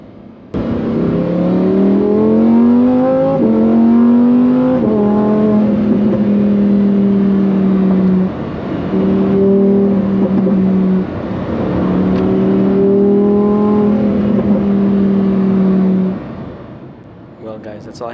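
A Lamborghini Huracan STO accelerates on a drive, its engine note climbing through several rising sweeps with brief drops at gear changes, loud and close from inside the car before settling near the end.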